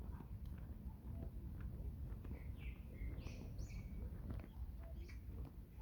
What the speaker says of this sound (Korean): 새가 저렇게 울면 자기를 부르는 거라고 생각하시는 걸까?